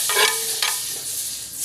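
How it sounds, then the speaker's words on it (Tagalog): Star margarine sizzles in a hot pan while sisig is being cooked, two sharp bursts of frying hiss close by that fade into a lighter crackle. "para paglagay natin ng star margarine ay magsisisling po siya"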